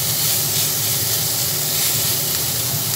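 Water poured into a pan of frying pumpkin and eggplant sets off a loud, steady hiss of sizzling steam that holds unbroken for several seconds.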